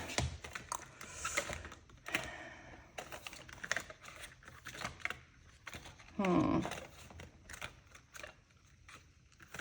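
Paper cash envelopes being handled and slipped into a binder, soft rustling and crinkling with light taps and clicks, quiet and close, with someone speaking at times.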